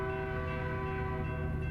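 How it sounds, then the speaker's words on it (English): A cargo train in American Truck Simulator rolls past with a steady, dense rumble and a sustained horn-like drone, loud and continuous throughout with no speech. "Little cargo train going."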